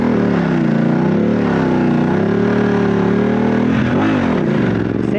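An adventure motorcycle on a Motoz Tractionator adventure tire powers through deep, soft sand, its engine droning loud and close with wavering pitch, then dipping and surging near the end.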